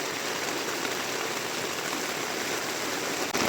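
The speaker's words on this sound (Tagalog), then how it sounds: "malakas na ulan." Heavy rain pours down steadily at a Bukidnon communal ranch campsite, a dense, even hiss of falling water that fills the whole scene without a break.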